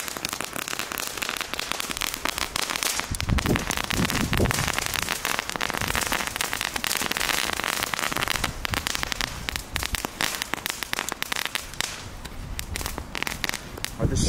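Dense crackling firework ribbons from a Jumbo-sold pack pop and sizzle continuously, a loud rain-like fizz of tiny bursts lasting many seconds, close by, with a voice briefly heard underneath.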